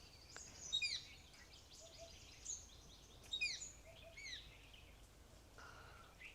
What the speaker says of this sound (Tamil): இந்த பறவைகளோட அதிசயங்கள் இருக்குது பார்த்திங்களா, அதனுடைய குரல்கள் அவ்வளோ இனிமையாக இருக்குது.